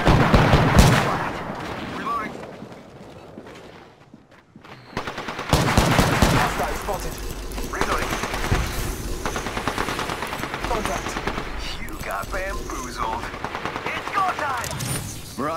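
Automatic and single gunfire in the battle royale video game Apex Legends, dense bursts after a brief lull, loud and close, with game voice lines and effects mixed in.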